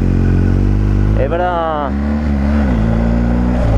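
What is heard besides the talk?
BMW 1250 GS motorcycle engine starting and revving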